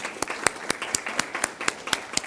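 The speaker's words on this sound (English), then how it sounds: "so if we can give them a round of applause." An audience at a school district governing board meeting claps in a short burst of scattered, moderately quiet applause from a small crowd.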